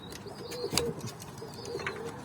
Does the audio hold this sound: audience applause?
no